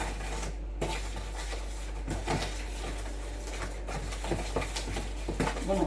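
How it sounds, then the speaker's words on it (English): Vanilla muffin cupcake batter being stirred in a bowl while milk is added bit by bit, giving soft, irregular clinks and scrapes of a utensil against the bowl, faint and close, with no talking. "I'm going to start adding my milk a bit by bit. Yeah, I'm going to stir it."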